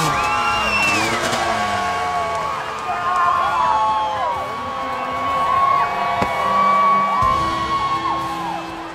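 Excited crowd cheering, whooping and yelling at a Hard-Enduro motorcycle race finish line at Sea to Sky 2016, a dense, steady roar of voices with rising shouts throughout, fairly loud and close.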